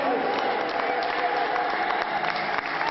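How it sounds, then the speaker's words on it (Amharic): A crowd at a preaching service sends up a dense, sustained wash of noise, loud and continuous throughout, with overlapping voices blending into it. "ወገን እልል በሉ።"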